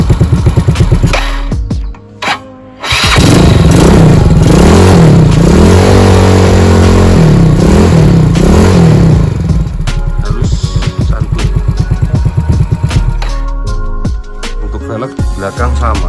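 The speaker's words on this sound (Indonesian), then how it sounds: "Dan asiknya ini itu nggak berisik, nggak ember seperti knalpot standar." A Yamaha Mio scooter-style motorcycle fitted with an aftermarket exhaust revs close by, loud and throaty, rising and falling through several throttle blips with a rattly idle between, a brief drop near the start and a voice talking over parts of it.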